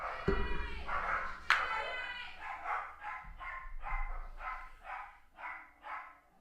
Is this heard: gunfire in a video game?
no